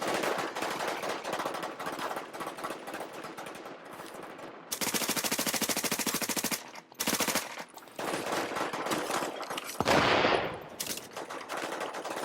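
Automatic gunfire in a video game shootout: long, loud bursts of rapid shots in several separate volleys with brief pauses between them, close and dominant with no talking.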